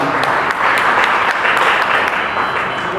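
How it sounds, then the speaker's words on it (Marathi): A loud, dense round of applause from a crowd honouring dignitaries at a Constitution rally, steady and continuous throughout with no voices on top. "अशा सर्वच मान्यवरांच्यासाठी एकदा आपल्याकडून जोरदार टाळ्या मित्रांनो"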